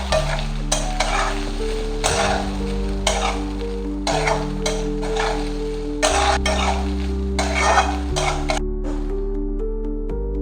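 Soaked poha is stirred into onion frying in a pan, with a spoon scraping in regular strokes every second or two over a steady background sizzle.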